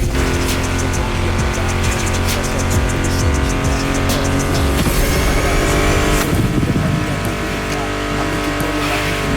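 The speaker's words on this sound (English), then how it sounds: "Meshes well with the sound of the engines, you feel me?" Muscle car engines from the racing game The Crew Motorfest roar steadily throughout, loud and close, blended with a music track and occasional tire noise.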